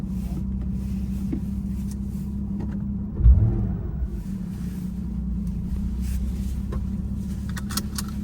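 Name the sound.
Porsche 911 car driving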